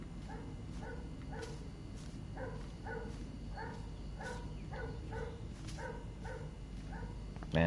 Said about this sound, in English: Man, that dog is going nuts.